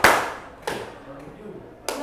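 A group claps hands in a classroom counting game, with one sharp burst at the start, another shortly after, and a final clap near the end, each brief and close against a quiet room.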